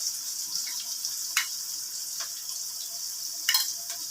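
Onions frying in a pan with salt and turmeric added, a steady soft sizzle throughout with a few brief stirring scrapes, close and fairly quiet, no talking.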